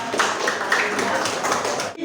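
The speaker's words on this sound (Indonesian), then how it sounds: "Tepuk tangan untuk kita semua dulu." A classroom audience at a school lesson clapping hands together in a brief, busy burst that stops abruptly, with some voices underneath.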